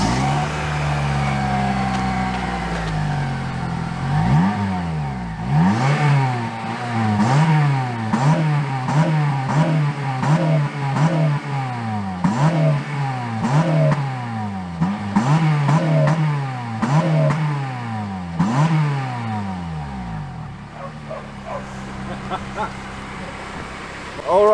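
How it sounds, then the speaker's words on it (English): A 2008 Honda Civic Type R FN2 is revved repeatedly up to its rev limiter, producing a rhythmic series of sharp rising and falling engine blips, loud and close, with idle before and after. "let's do our first startup and, well, let's just see how it revs"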